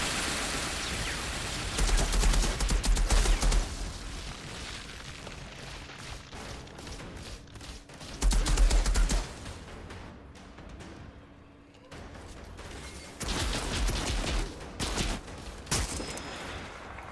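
Mortar fire in the Outriders shooter game comes as three loud bursts of thudding blasts and rapid gunfire. Quieter stretches of battle noise separate the bursts.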